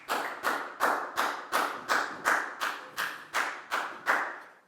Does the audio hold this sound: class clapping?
yes